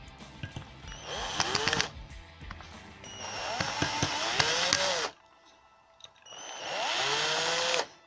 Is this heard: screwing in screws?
yes